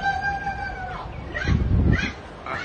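A crow in Israel gives a few loud, harsh caws close by, the strongest pair arriving in quick succession midway through against a busy background.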